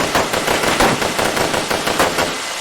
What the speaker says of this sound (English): Gunshots and the roars of battle filled the air.